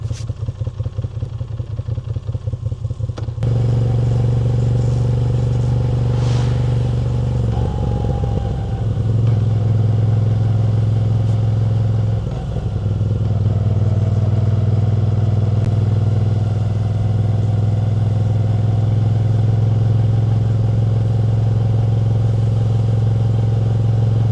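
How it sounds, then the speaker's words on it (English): A Moto Guzzi V7 Special motorcycle with stock exhaust starts up and settles into a deep, throaty idle rumble, close and loud, with a couple of revs along the way. "This is the stock exhaust and it has this deep throaty rumble that is just perfect."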